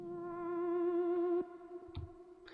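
Short synth step effects transition, high-passed, played solo in a track mix: a sustained buzzy tone with stacked harmonics that swells then cuts off abruptly, followed by a couple of brief clicky hits.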